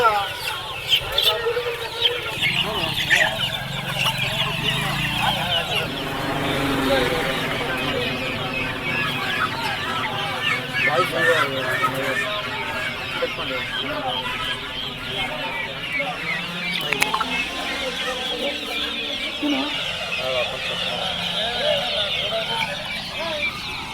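Country chickens cluck steadily throughout at a village poultry market while people talk nearby, with busy background chatter suggesting a crowded place.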